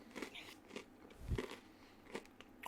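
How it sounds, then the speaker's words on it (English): Crunchy pizza being bitten and chewed close to the mic, a few separate crisp crunches spread over a couple of seconds, one louder bite near the middle, with no talking. "Hold on, I'm eating pizza."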